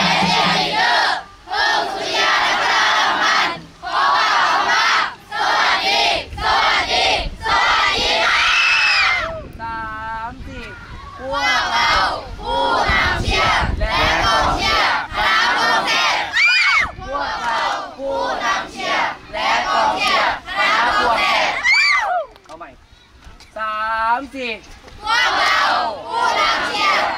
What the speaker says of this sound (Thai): ฟังนะพวกเราผู้นำเชียร์และกองเชียร์คณะพวงแสบสามสี่พวกเราผู้นำเชียร์